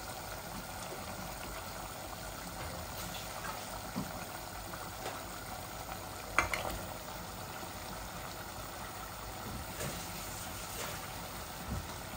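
Curry simmers in a pot, a steady soft bubbling hiss that runs throughout with a few faint pops and one brief sharper crackle near the middle.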